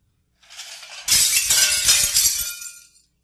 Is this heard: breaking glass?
yes